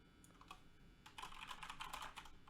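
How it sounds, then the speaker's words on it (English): Fast typing on a computer keyboard, close and clear, with a few isolated keystrokes giving way to a dense burst of rapid clicking. "Bring it over here so you guys can see what I'm typing."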